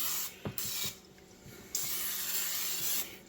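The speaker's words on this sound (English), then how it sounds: "We're going to spray some canola in it." Canola oil cooking spray misted into a hot cast iron skillet, a steady close hiss lasting a few seconds with slight pulsing and a few faint clicks underneath.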